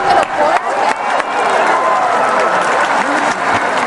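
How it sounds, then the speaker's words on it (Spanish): A large festive crowd in St. Peter's Square at the Vatican claps and cheers with joy while flags wave, a dense, steady roar of applause that swells with a few sharper bursts and never lets up. "Gritos de júbilo, aplausos, banderas agitadas con emoción."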